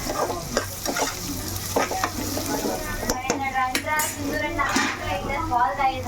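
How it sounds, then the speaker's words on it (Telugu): Onions frying and being stirred in a pan for a village-style country chicken dish, with steady sizzling under clinks and scrapes of a utensil, while a voice talks over the cooking. "ఉల్లిపాయలు మనకి బాగానే వేగిపోయినాయి చూడండి"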